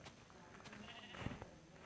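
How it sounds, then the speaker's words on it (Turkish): A single short Minecraft sheep bleat, slightly synthetic in tone, over faint background noise. "Koyun."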